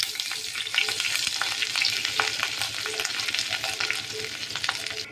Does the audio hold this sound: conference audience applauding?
no